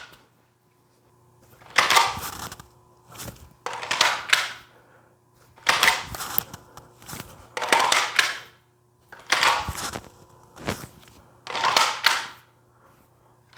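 A cleared pistol drawn repeatedly from an Aliengear Rapid Force Level 3 duty holster: about six bursts of close clicks, snaps and rustling, evenly spaced with short pauses between, over a faint steady hum.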